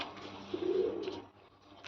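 A large pigeon coos once in a low, soft burst, fairly close and alone, with faint background noise around it.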